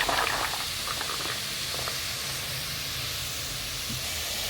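Garlic sizzling in hot oil in a pan with cumin and onions for a gravy, a steady loud hiss with light crackling pops throughout, close by and alone with no talk.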